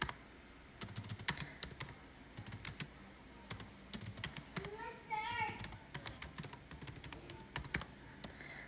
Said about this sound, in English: I'm obviously typing this with like one hand